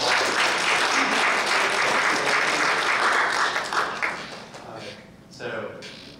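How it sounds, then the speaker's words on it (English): A room of attendees at an informational community meeting breaks into steady applause for the meeting coordinator, loud and sustained before tapering off, with a brief renewed swell near the end. "Everybody give her a round of applause"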